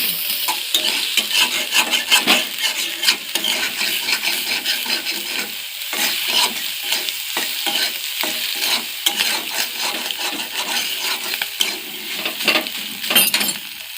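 Onions and chillies fry in a pan, a steady loud sizzle with frequent stirring scrapes and light clinks of a utensil against the pan.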